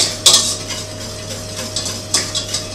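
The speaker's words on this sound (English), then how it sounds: "Give it a good whisk." A whisk beats yellow mustard into a mixture in a bowl, with one sharp metal clink followed by several quieter scraping strokes and taps close by, free of talk.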